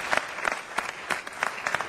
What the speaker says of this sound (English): Let's give David and Emily a round of applause for just doing great work on the screen here.